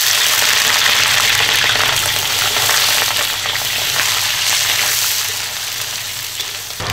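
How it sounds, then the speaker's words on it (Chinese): Pork ribs go into hot oil in a wok for dry-pot ribs, producing a loud, close, continuous frying sizzle that softens slightly toward the end, with no voices. "油热后先下排骨"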